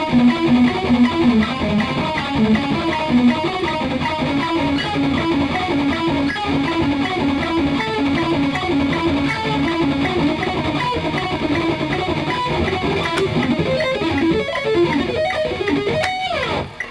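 Distorted electric guitar plays fast sweep-picked triad arpeggios in a shred metal style, a steady dense stream of rapid notes running loud and continuous for the whole stretch with no talking.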